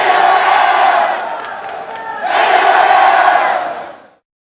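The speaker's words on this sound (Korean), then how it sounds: "강호들을 꺾고 당당히 결승에 진출한 평택 청담고등학교를 향한 함성이 울려 퍼집니다" Fans at Seoul's Mokdong baseball stadium roar for Pyeongtaek Cheongdam High School at a national high school baseball championship final, a loud massed cheer that dips briefly, surges again, then cuts off.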